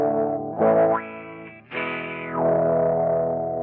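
An instrument runs through a Sonuus Wahoo filter effect, its sustained distorted notes sweeping up and down in a few swells and drops, alone with no talking.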